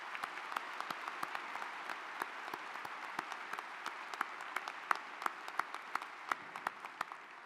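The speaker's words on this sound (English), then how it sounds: "join me in a round of applause for our new Chancellor" Commencement crowd applauding a new university chancellor, steady rapid clapping from a large audience in a hall, with sharper individual claps standing out throughout at a moderate distance.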